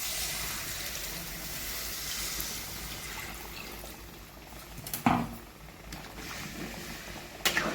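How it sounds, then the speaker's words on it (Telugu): Water pours into a pot of mango chicken curry seasoned with salt and chili, a soft, steady stream with a couple of faint knocks, fairly quiet and with no talk. "వాటర్ పోసుకోవాలి మనం దీంట్లో."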